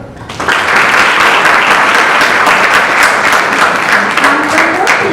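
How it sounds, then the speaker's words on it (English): A school audience at an inter-house science quiz breaks into loud, sustained applause to welcome the first team, the dense clapping starting abruptly and holding steady to the end. "please welcome our first team with a big round of applause"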